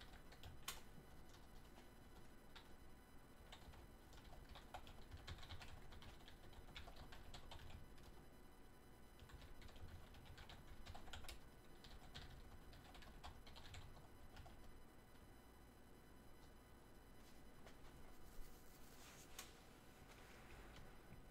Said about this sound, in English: Let me just type something real quick here.